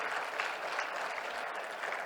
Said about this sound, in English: I want you to give yourself a round of applause for being an amazing audience